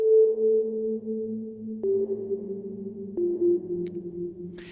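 A shimmer reverb in Arturia Pigments 4, feedback cranked up, holds sustained pitched tones that step upward in a few distinct shifts, with a smooth, hollow, sonar-like ringing wash.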